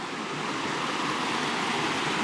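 A waterfall in the Lepper Brook watershed in the woods sends up a constant broadband rush, loud and unbroken, with no talk.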